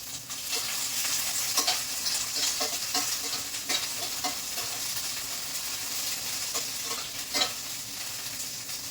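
Raw ivy gourd (dondakaya) frying in a pan without tempering for a coconut chutney, a steady sizzle and hiss with a few sharp stirring clinks and scrapes, close and moderately loud, no talking.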